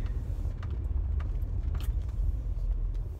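A car drives along a road past the DMV with a constant deep engine and tire rumble from inside the vehicle, with light rattles and jingles now and then over the steady drone.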